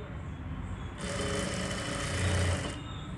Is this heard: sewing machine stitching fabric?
yes